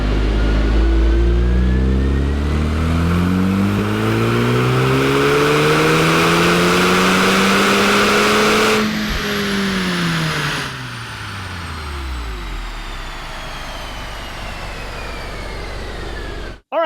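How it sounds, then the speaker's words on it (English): Stock 2.0 TSI engine in a VW Golf R revving on a dyno, the pitch climbing steadily through a long pull, then dropping as the engine winds down, loud and close with no talking. "All right, we got our first dyno runs in."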